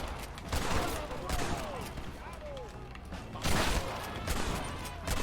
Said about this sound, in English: shoot the barrel